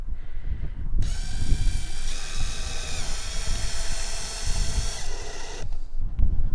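A power driver runs black stainless steel screws into an RV sidewall panel in one steady whirring burst of several seconds, close and loud.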